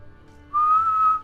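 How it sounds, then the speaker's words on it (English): A life jacket whistle gives one short, shrill, steady blast of under a second, loud and close, with quiet background before it and no speech. "What's the whistle for?"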